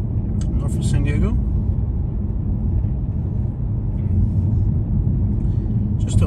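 A car drives past Solana Beach, California, north of San Diego, with a continuous low road rumble and engine hum from inside the vehicle. A person talks over the noise near the start.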